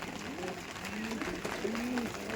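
A Pakistani Chotiyal pigeon gives soft, low cooing calls, a few rising and falling coos close by against a busy background.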